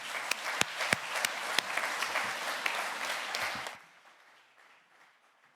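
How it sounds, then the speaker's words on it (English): An audience at a plenary session applauds its panelists, a dense burst of many hands clapping that carries on for several seconds, then stops abruptly and leaves only faint room noise. "So please join me in giving a round of applause to our panelists."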